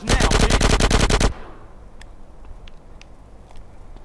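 Rapid automatic gunfire from Grand Theft Auto San Andreas rattles loud and close for just over a second, then stops, leaving faint ambient game noise with a few soft clicks.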